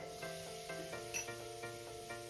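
Cut potatoes and flat beans hit hot oil in a pan, having just been seasoned with turmeric. A steady, close sizzling hiss runs throughout, with soft crackling bursts rising and falling.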